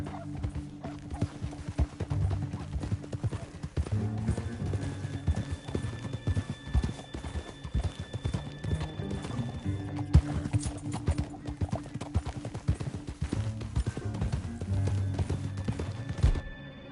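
Rapid, rhythmic hoofbeats of several galloping horses in the video game Red Dead Redemption 2 pound continuously over a droning musical score, with an occasional whinny rising through the clatter.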